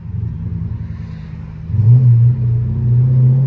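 A deep, throaty 500 hp Dodge Scat Pack engine rumbles nearby, growing louder and heavier midway as it revs and pulls away, with no talking.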